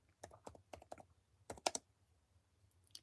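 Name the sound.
typing on a computer keyboard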